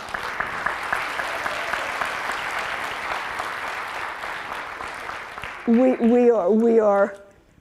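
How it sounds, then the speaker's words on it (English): An audience at an early childhood school readiness symposium claps steadily for several seconds, then the applause fades as a voice speaks over it near the end. "You can clap."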